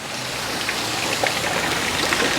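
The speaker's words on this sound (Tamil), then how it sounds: "இப்போ வந்து மழை பெய்யுது, மழை பெய்யறப்ப இதை பண்ணுறோம்" Steady rain falls with an even, continuous hiss and faint scattered drops, with no talking throughout.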